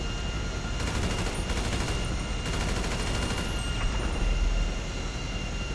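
Rapid video game gunfire in Grand Theft Auto V, aimed at a helicopter: a dense, continuous rattle of shots over a steady engine-like drone, loud and unbroken for several seconds.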